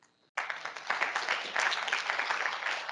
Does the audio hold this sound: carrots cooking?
no